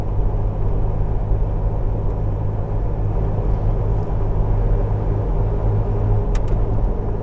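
A Jeep TJ with 4.88 gears and 32-inch tires drives onto a highway, its engine and road noise a steady, loud low rumble throughout with no voices.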